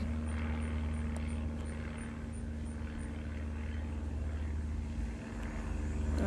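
An airplane in the Roblox game passes overhead as a continuous low engine hum at fairly quiet level, steady for several seconds, with no voices.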